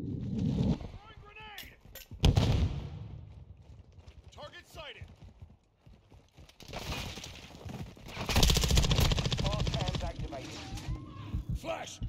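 SMG gunfire in the Call of Duty: Modern Warfare II video game, loud rapid bursts and sharp shots mixed with in-game voices and chatter, with a heavy sustained burst late on.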